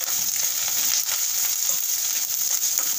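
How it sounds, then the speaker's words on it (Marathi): Green chillies and ginger sautéing in hot oil in a pan for a Maharashtrian ghol varan, a steady, close, dense sizzle that holds at an even level throughout. "हिरवी मिरची आणि आलंही छान परतायचं आहे"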